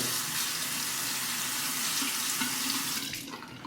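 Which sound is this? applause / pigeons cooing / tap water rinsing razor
tap water rinsing razor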